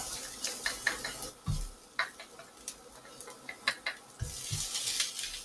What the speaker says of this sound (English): so I'm gonna add in my minced onions